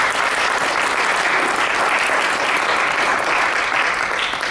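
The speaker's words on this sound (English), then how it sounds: "Give him a round of applause." An audience at a Time Line Therapy talk and demonstration breaks into loud, sustained applause, dense clapping from many hands filling the room without letup.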